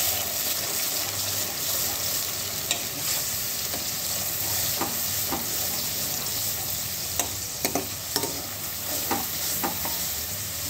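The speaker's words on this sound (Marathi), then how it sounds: "पेस्ट मधलं पूर्ण पाणी आटलं पाहिजे, तेल सुटेपर्यंत आपल्याला फ्राय करायचं आहे" Masala paste for pav bhaji frying in oil until its water cooks off, a steady close sizzle with occasional scrapes and clicks of stirring throughout, no talking.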